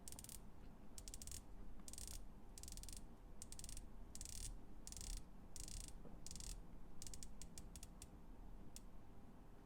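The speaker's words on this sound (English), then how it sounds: "let's just try out the action of the bezel" San Martin SN0067 dive watch bezel with a grooved edge being turned by hand, giving rapid bursts of fine close-up ratchet clicks in repeated runs with short pauses, over a steady low background hum.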